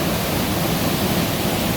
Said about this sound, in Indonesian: air terjun Luandoi